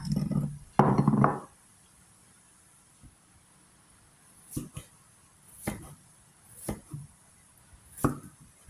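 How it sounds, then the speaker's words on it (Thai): A knife cuts washed shallots on a cutting board. A few solid knocks come at the start, then single, separated chops sound sparsely and close up in a quiet kitchen. "หอมนี่เราก็ล้างทำความสะอาดเรียบร้อยนะคะ ทีนี้เราก็จะหั่นนะคะ"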